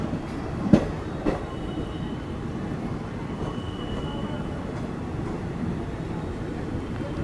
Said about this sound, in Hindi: ट्रैक चेंज होते टाइम पे बड़ा मस्त साउंड आता है यार